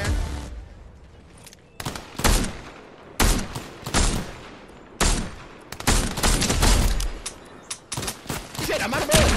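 Bursts of gunfire in the Fortnite video game crack out in repeated loud volleys, some single shots and some rapid fusillades, with short pauses between, close and dominant over faint background sound.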